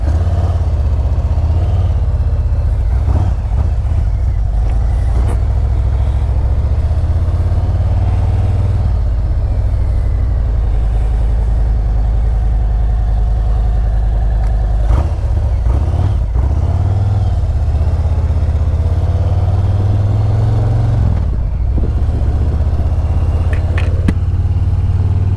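A 2020 Harley-Davidson fitted with slip-on exhaust idling, a loud, deep, throaty rumble that holds steady throughout with a few brief clatters, close and without talk.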